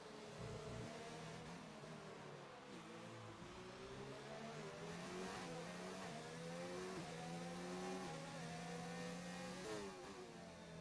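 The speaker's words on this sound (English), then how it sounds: "You can see all of these cars moving down this back straight into the wall of champions." Several Formula 1 cars in F1 2019 race down a back straight, their engines wailing steadily with pitch climbing and dropping through gear changes, with no one speaking.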